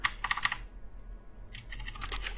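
Two quick bursts of computer keyboard keystrokes, clicking close and crisp, separated by a short quiet pause, with no voice over them.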